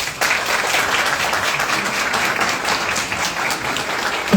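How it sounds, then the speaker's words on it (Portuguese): An audience at a ceremony honouring a dentist with a certificate and medal breaks into sustained applause, a dense, even clatter of many hands with a brief louder burst at the very end. "merece realmente toda essa salva de palmas de vocês mais uma vez"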